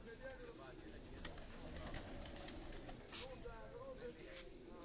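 Pigeons kept by a pigeon fancier coo softly in low rolling calls, quiet and fairly close, with a voice speaking intermittently over the birds.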